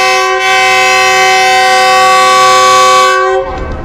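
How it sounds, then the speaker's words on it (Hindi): A loud, sustained departure horn from the Khushhal Khan Khatak Express blasts steadily for about three seconds at Attock City, then cuts off, leaving rumbling rail noise behind. "इनिशियल डिपार्चर हॉर्न हो गया"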